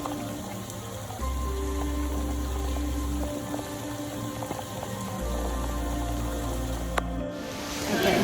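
Steady rain falls throughout, a continuous broad wash of drops on surfaces outdoors on a rainy day trip, with a low steady hum underneath and a brief sharp knock near the end.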